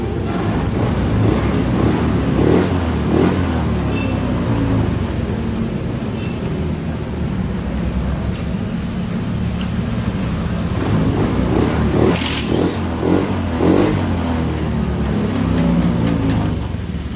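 A Honda Beat FI scooter engine runs steadily after starting, a close, continuous mechanical hum with a few faint clicks and knocks on top, and no voices.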